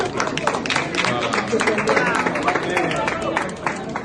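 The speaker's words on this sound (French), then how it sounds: "Il faut applaudir" An audience breaks into applause for a Congolese man who generates electricity, a steady, lively patter of many hands with crowd voices and talk mixed throughout.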